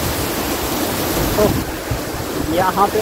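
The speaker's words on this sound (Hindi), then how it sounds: "तो अभी मैं आपको वाटरफॉल के पास ले चलता हूँ।" Rushing water from a waterfall beside a hillside cave shrine, a steady broadband roar filling the whole clip, with someone speaking briefly over it.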